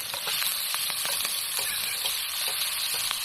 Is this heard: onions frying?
yes